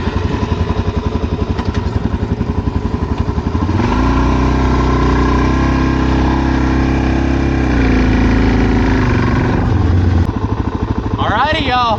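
A Suzuki DRZ400SM supermoto motorcycle engine chugs at idle, then revs up into a steady loud drone before settling back to a thumping idle, close by, with a voice talking near the end.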